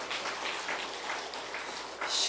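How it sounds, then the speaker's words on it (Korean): A church congregation claps warmly in welcome during a Lenten Sunday worship service, a steady wash of many hands at moderate distance that swells slightly near the end. "뜨거운 박수로 환영해 주시기 바랍니다."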